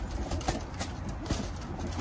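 Teddy pigeons in a loft cooing softly amid low rumbling background noise, with a few faint soft calls and no clear talk.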